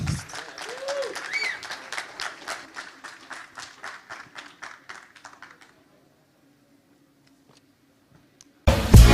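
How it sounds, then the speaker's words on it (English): Conference audience at a Cosmos ecosystem event in Medellín claps for the next speaker, a run of distinct hand claps that thins out and stops, followed by quiet. "Give him a round of applause."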